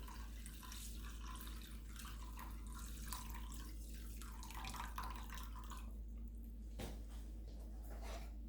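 A whole glass of water pours into 6 ounces of brown rice in a home kitchen, a steady faint splashing and trickling wash with scattered drips, alone without talk.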